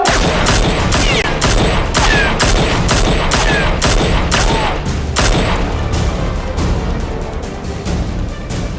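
Rapid bursts of gunfire crackle through a police chase scene, shots fired in quick succession almost continuously, loud and close, with no talk over them.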